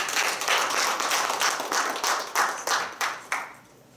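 A church congregation claps together in acclamation of the Holy Spirit during a worship service, a run of roughly a dozen loud, regular beats that fades out at the end.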